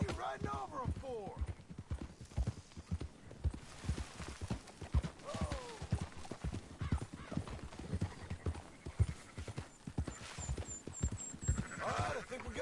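Horse hooves clip-clop steadily as a rider tramples through a flock of sheep in the video game Red Dead Redemption 2, with sheep bleating, a horse whinnying and voices talking over the hoofbeats.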